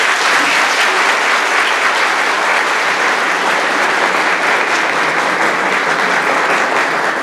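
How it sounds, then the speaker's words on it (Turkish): An audience gives the health staff sustained applause at a school event, a dense, loud wash of clapping that holds evenly for several seconds with no speech over it. "Onlara da bir alkış rica ediyorum ben."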